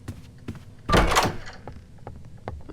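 A door in the horror game Roblox Doors opens with a single heavy thunk near the middle. Soft game ambience and scattered small clicks surround it, and no one speaks.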